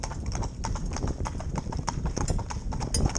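Two Gypsy Cob horses trot in tandem, their hooves beating a quick, steady clip-clop rhythm close by, with a driver calling out over the hoofbeats.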